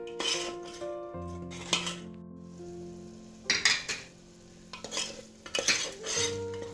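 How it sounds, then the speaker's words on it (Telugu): Masala spices with salt and turmeric frying in a pan for mutton curry, stirred with a metal spoon: scraping and clinking strokes come in bursts over a steady soft sizzle, close and fairly quiet. "ఈ మసాలా కొంచెం పచ్చివాసన పోయేంత వరకు మనం వేయించుకోవాలి."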